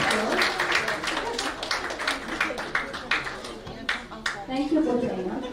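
An audience at a women's leadership conference held by the Ras Al Khaimah chamber and Emirates club claps steadily, a dense patter of hands filling the room with a few louder individual claps near the end.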